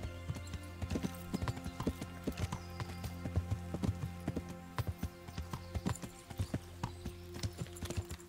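Horse hooves clip-clop steadily in Kingdom Come: Deliverance, a medieval game, as a rhythmic run of distinct hoof strikes over a constant low ambient hum, with an occasional whinny and no talking.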